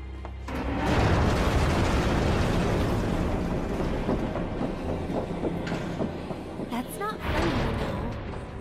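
Train rumbling toward the train graveyard from the Sector 7 slums in Final Fantasy VII Remake, a loud continuous roar with clattering and hissing bursts, close up and partly under game speech.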